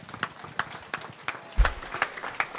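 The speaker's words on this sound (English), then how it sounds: "so let's give them all a round of applause." An audience at a market hog show claps in a burst of applause, many hands patting loosely and unevenly from start to finish.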